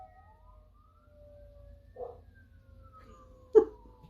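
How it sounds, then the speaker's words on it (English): A dog howls outside while sirens wail faintly in the distance: long, thin sliding siren tones run under two short, louder howling bursts, with no talking. "my dog's howling outside."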